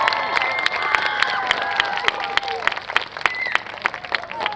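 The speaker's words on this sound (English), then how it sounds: "give them a round of applause for helping us out" Applause and cheering from a crowd at a school orchestra concert night, honoring the string players, with loud claps, scattered shouts and voices mixed into the steady clapping.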